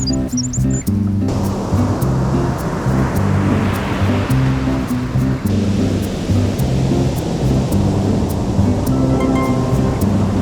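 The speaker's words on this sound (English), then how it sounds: "Oh, we made it to the beach." Ocean waves wash onto a beach in a steady, loud roar of surf, with faint clicks and bumps close by.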